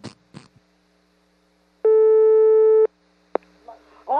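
A telephone busy signal on a payphone call comes through as a single loud, steady tone lasting about a second, with faint background noise, a sharp click and brief murmurs around it.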